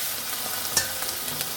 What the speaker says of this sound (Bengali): গরম তেলে সামান্য জিরে ফোড়ন দিয়ে মাছগুলো আমি দিয়ে দিয়েছি।